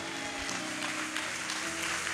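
A church congregation at a prayer-day service applauds, a soft, steady wash of clapping throughout with a sustained musical tone beneath it.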